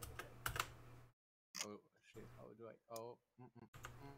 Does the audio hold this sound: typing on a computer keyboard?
yes